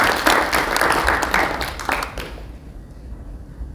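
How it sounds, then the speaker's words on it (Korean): An audience at an award ceremony bursts into loud applause, many hands clapping for a couple of seconds before it quickly dies away into room quiet. "뜨거운 박수 부탁드리겠습니다"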